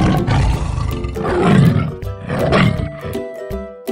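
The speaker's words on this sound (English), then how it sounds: "Tiger." A tiger gives long, loud, rumbling roars, two swelling growls back to back, close and with no one talking.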